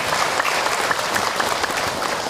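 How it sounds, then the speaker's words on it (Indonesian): An audience at an Islamic religious lecture breaks into steady, dense applause for a woman who asked a question. The clapping is close and continuous with no pauses. "Tepuk tangan buat ibu yang bertanya betul."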